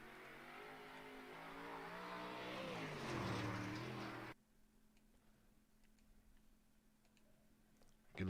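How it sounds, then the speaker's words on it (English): A dirt track race car engine at a Fairbury dirt series event roars loud and steady with revving harmonics for about four seconds, then drops away to a faint distant drone. "Get a little better engine sound for you guys there."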